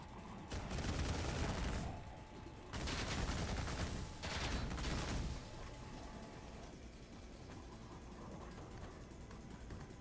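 Gunfire in the shooter Ion Fury on Maximum Fury difficulty, three loud rapid-fire bursts of a few seconds each, separated by short pauses, then a quieter stretch of background rumble.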